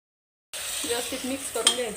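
Mutton pieces go into hot oil in a clay pot, bursting into a sudden close sizzle after a half-second of silence and crackling on for a little over a second.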